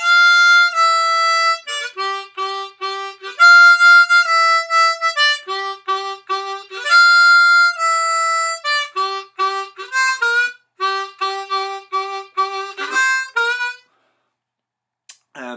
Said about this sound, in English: I'm on a C harmonica